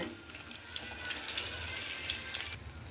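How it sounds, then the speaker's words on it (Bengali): Batter-coated eggplant fries in oil on a gas stove, giving a soft continuous hiss and sputter, fairly quiet and close, with no talking. "ভালো করে উল্টে পাল্টে লাল লাল করে ভেজে নেব"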